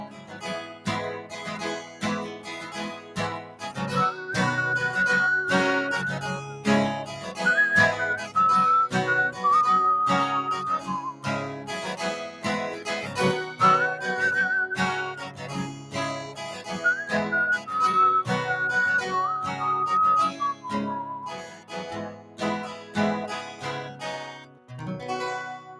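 A woman whistles a bright, wavering melody live on a theatre stage, clear and prominent over steady musical accompaniment with rhythmic beats, alone without speech.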